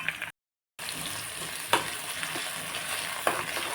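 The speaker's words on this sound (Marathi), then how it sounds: "टोमॅटो मऊ होईपर्यंत आपल्याला छान भाजून घ्यायचं आहे" Onion and tomato sauté in a hot pan, giving a close, continuous sizzle broken by a brief silence near the start and a couple of spoon scrapes and clicks.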